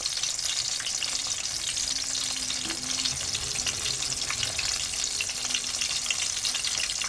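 Ridge gourd fritters (bhaji) deep-fry in hot oil with a steady, close, even sizzle throughout. A faint scrape or two sounds as they are turned, and there are no voices.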